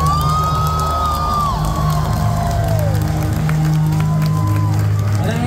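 A concert crowd at a metalcore show cheers, shouts and whoops for a band, a dense continuous roar of many voices close by, with whistles.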